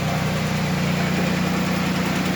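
A swapped engine in a 1996 Chevy Camaro idles steadily at its first start, a smooth, continuous close-up drone with slight vibration and no talking.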